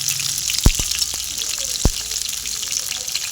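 Prawn chops fry in hot oil with a steady, close sizzle. A few faint clicks and knocks sound over it, and no one speaks.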